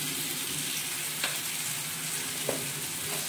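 Mashed roasted eggplant with red chili powder and salt frying in a pan for Maharashtrian bharit, a steady close sizzle with a few soft scrapes of stirring.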